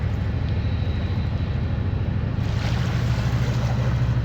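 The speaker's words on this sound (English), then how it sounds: "that barge is so loud" A loud barge passing on a Kentucky river during night catfishing, a steady low engine drone with a rumbling hum that grows slightly stronger partway through, no voices.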